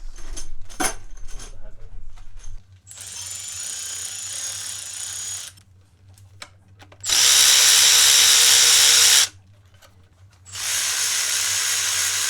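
A power tool drives head bolts down into the crankcase of a forged BMW N55 engine build. It comes in three loud, sustained whirring runs separated by quiet gaps, with clinks of handling in between and no talk.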